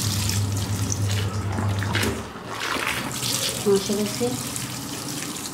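Water pours steadily from a tap into a washing machine tub loaded with a heavy quilt, a continuous splashing rush with someone speaking briefly over it.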